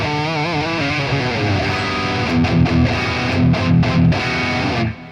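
Electric guitar played through an amp's Modern channel with overdrive distortion plus a touch of reverb and delay, loud sustained chords and riffing with dense harmonics throughout, ringing out at the end.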